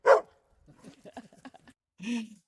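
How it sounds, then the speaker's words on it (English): A dog on open rural land gives a sharp bark, then a run of quieter yips and whines, and ends with another full bark, close and clear. "Crazy dog"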